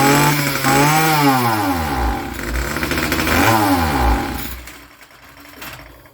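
A Titan petrol strimmer engine running loud and close, its revs climbing then sagging twice as it bogs out, before dropping to a weaker idle.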